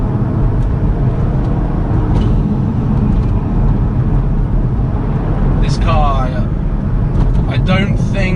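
A car accelerating hard with the throttle at about 60%, its engine roaring loud and close for the whole stretch, with a voice briefly over it near the end.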